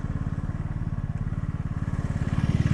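A motor scooter engine idles close by with a rapid, steady putter that grows slightly louder and rougher toward the end, no voices over it.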